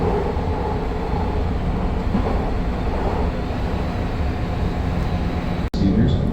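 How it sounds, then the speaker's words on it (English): Another train passes in the opposite direction while riding a train near Chicago, a loud continuous rumble and rush of wheels and wagons close by, broken by a brief sharp dropout near the end. "Another train going the other direction."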